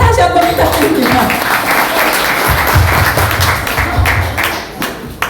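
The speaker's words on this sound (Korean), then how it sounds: "뜨거운 박수 다시 한 번 부탁드립니다." A meeting audience gives loud, dense applause at an Incheon gathering, a close and continuous roar of many hands with voices mixed in, easing slightly toward the end.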